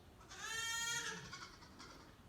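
A goat newly arrived on a farm gives one drawn-out, wavering bleat near the microphone, fading into quiet rustling afterward with no voices present.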